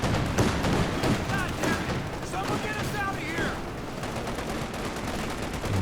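An M20 armored car firing in the World War II strategy game Company of Heroes 2, rattling machine-gun bursts and booming shots amid a busy battle, steady and loud, with a voice talking over the action.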